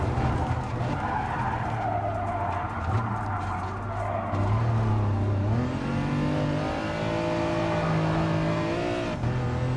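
A BMW M4 in Gran Turismo Sport drives hard, tires skidding and squealing over a continuous engine drone that rises and falls with shifting revs, loud and close throughout.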